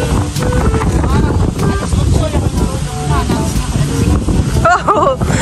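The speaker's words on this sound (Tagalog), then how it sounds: "Lakas ng hangin." Strong gusting wind buffets the microphone at a riverside hut during stormy weather, a loud steady rush throughout while people talk over it.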